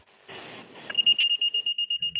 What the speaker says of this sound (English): It's like that shrieking, piercing. Like the alarm clock.